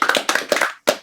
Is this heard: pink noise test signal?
no